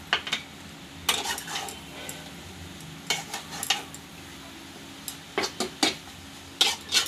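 Bitter gourd and potato pieces being stirred and tossed with turmeric and salt in a pan, a spatula scraping and clinking against metal in irregular bursts over a faint low sizzle, with no talking.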